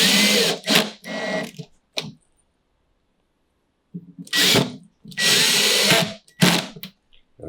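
A power drill drives screws into a PVC reptile rack in loud close bursts, two short runs, a pause of silence, then several longer whirring runs that stop and start.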